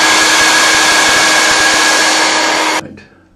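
A loud, steady hair dryer blows close by to dry a watercolor painting of a Tuscan farmhouse. It runs for nearly three seconds, then cuts off and winds down quickly.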